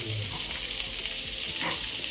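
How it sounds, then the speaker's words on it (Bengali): Potatoes and cauliflower fry with cumin in a pan at home, a soft steady sizzle with faint stirring scrapes, heard fairly quietly and close without talk. "এটা হচ্ছে জিরা আলু ফুলকপি ভাজা।"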